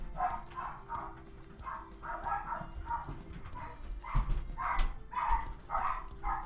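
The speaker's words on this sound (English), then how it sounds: "the dogs heard a noise and they're gonna bark for like 5 minutes" Several dogs barking in repeated bursts indoors, moderately distant and steady, with a low hum underneath.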